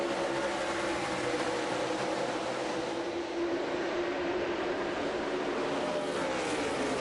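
Stock cars at a NASCAR race at the Brickyard roar through a restart, a dense, sustained broadband engine drone from the pack that stays loud and steady without letup.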